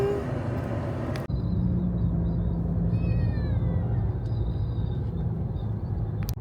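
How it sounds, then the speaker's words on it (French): A kitten meows inside a car climbing a mountain road, a few high rising cries standing out over the steady low engine and road rumble, with no talking. "Et là, il miaule et on se dit tiens c'est marrant, il miaule rarement d'habitude."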